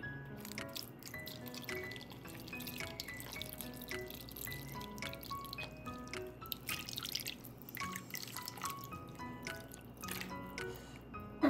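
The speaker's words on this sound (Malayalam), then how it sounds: "ഇങ്ങോട്ട് ഇച്ചിരി വെള്ളം കൂടെ ഒഴിക്കാം." Water poured into a cooking pot while making a Kerala fish curry, heard as a steady trickling, dripping stream with small splashes that runs on throughout, close by and moderately loud with no talk.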